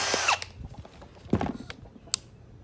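A hand or power drill bores through a hard peach pit, giving scratchy, grinding bursts with a few sharp clicks and snaps, close and fairly quiet.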